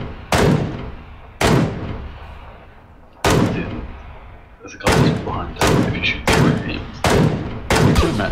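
Gunshots in a first-person shooter, about ten loud sharp reports with echoing tails, spaced irregularly, first roughly a second apart, then coming faster in a quick run near the end.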